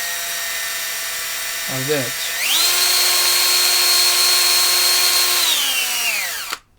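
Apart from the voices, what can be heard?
drilling machine running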